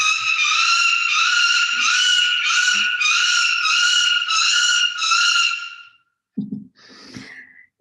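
Peregrine falcon fledglings calling during an examination, a loud run of harsh, repeated screaming cries in a steady rhythm, followed by a few shuffling handling sounds.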